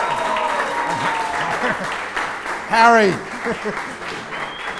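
An audience at an awards celebration claps for an award winner, a steady run of applause under a speaker's voice, with a single shout cutting through near the middle.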